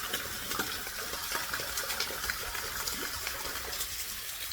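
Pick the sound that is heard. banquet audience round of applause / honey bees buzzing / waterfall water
waterfall water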